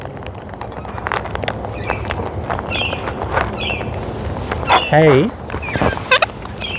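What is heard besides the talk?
wild cockatoos squawking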